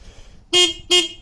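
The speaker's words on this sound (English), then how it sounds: "Horn works." Two short honks from the horn of a small go-kart bought secondhand, loud and close with a brief gap between them.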